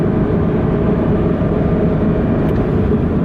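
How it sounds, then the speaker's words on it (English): Steady engine note from a car fitted with a Blitz NUR-SPEC C-Ti titanium exhaust, cruising in third gear at about 3,000 RPM and 60 km/h, a continuous low drone-free hum throughout. "It's all you're really hearing is just the engine note at that RPM level and speed."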